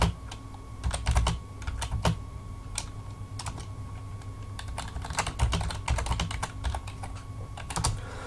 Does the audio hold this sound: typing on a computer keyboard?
yes